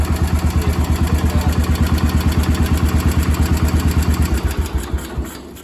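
A Cub Cadet 1250 garden tractor, left sitting for 20 years and now running on a freshly adjusted carburetor, idles close by with a steady, even chugging pulse that eases off near the end.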